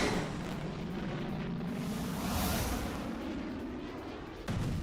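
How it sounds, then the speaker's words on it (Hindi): A missile launching from a warship during a military operation gives a loud, continuous rumbling roar that holds steady for several seconds with no voices. "दावा युद्धपोत से मिसाइल लॉन्च का।"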